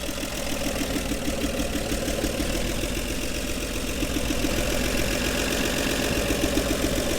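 A 1961 Chevrolet Bel Air, revived after sitting off the road for about forty years, idles steadily nearby with an even, rhythmic engine rumble throughout and no voices.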